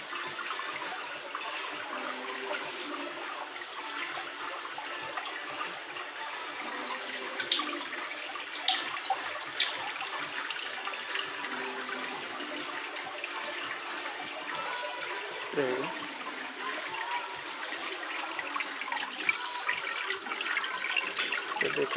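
Water pours into a large saltwater aquarium tank in a multi-level marine fish display, a continuous rushing, trickling flow lasting over twenty seconds with small splashy bursts and no talking.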